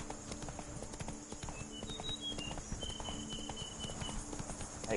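Hooves of Roach, the horse in the video game Witcher 3, clip-clop in a steady walking rhythm, quiet and close, with a faint tonal game ambience above.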